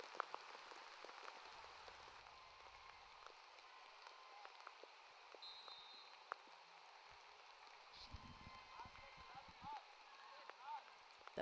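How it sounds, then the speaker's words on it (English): Heavy rain falls steadily on an open football pitch during a women's under-20 match, a dense, even hiss with scattered patter and faint distant sounds beneath it. "And the rain just seems to keep getting heavier."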